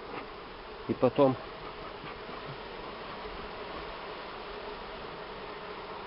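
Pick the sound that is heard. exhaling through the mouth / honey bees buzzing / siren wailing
honey bees buzzing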